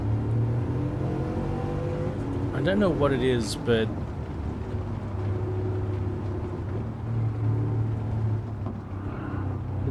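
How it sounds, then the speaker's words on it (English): A W16 car engine in the Gran Turismo 7 racing game drones steadily at mid volume, with a brief rising rev partway through, while someone talks over it. "the W16 configuration doesn't produce the most amazing and musical sound"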